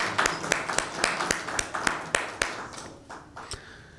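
Scattered hand clapping from an audience at a Lent season mushaira, a dozen or so sharp separate claps at a loose uneven rhythm, fairly faint, without a full burst of applause.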